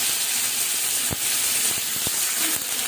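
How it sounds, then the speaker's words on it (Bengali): Chopped onions drop into hot oil and hiss with a steady, broad sizzle, close and fairly loud, punctuated by a few soft knocks and pops and with no voices. "এখানে গরম তেলের মধ্যে আমি এবার পেঁয়াজটা ছেড়ে দেবো"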